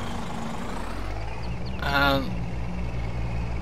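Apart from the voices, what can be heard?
Scania Streamline lorry engine accelerating through gears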